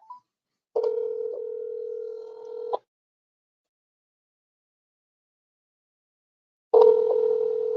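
A telephone line gives a steady dial tone for about two seconds, cut off by a click, then silence, and the tone returns near the end; no voices.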